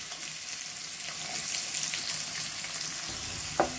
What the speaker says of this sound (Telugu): ఇలా ఆనియన్స్ కొంచెం దోరగా వేయించుకుందామండి.